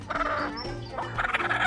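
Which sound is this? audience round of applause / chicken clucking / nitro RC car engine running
chicken clucking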